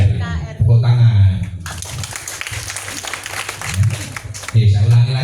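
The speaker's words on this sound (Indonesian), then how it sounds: "Tepuk tangan." A crowd applauds at the Garda Walisongo inauguration ceremony in Banyuwangi, a burst of clapping lasting a few seconds, wedged between loud amplified voices before and after it.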